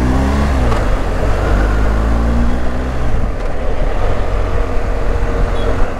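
A BMW R 1250 GS motorcycle engine pulls and accelerates through city streets, a steady, loud low drone with rising harmonic sweeps early on, heard continuously and close with no talking.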